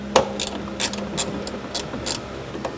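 A hand ratchet wrench turns the last bolt on a Jeep Wrangler JKU Rubicon, giving a close, steady series of quick clicking bursts in an even rhythm, with no voice.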